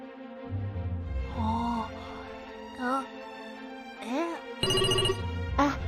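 A cheerful electronic ringtone chimes out for an incoming call in a children's space-learning game, playing in repeated rising melodic phrases over a background music bed, clear and prominent.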